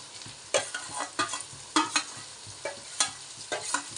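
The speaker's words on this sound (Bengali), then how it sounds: "পেঁয়াজগুলো এখন ভাজা হবে" Onions and spices frying in a pan while being stirred for a spicy mutton curry, giving a steady sizzle broken by repeated scraping strokes of a spoon, close and fairly quiet.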